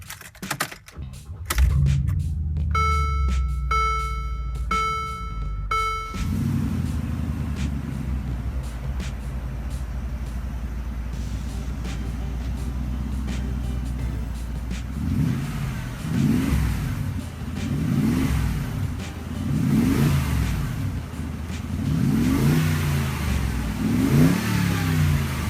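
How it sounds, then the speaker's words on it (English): A Mercedes-Benz G550 with a 382-horsepower engine cranks and starts after a brief clicking, idles with a steady low rumble, then revs several times in rising and falling surges close by. "let's start up the G550 and hear what its 382 horsepower sounds like"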